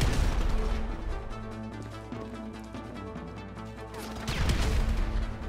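Gunfire from the video game GTA V sounds as sharp bursts at the start and again near the end, set against a steady tonal game soundtrack, with no talking.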